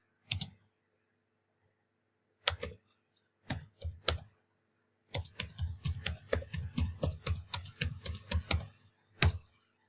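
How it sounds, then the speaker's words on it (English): Typing on a computer keyboard in a content-editing program, short scattered bursts of close, crisp key clicks separated by silent pauses, then a longer busy run of keystrokes, with no talking. "So let's just type something in here."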